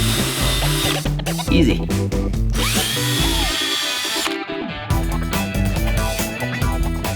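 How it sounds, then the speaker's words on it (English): A power drill fitted with a step drill bit whines loudly and close while widening a hole, in several bursts with brief pauses; a voice speaks a single short word partway through. "They're step drill bits, and they kind of go bigger and bigger without having to change it out."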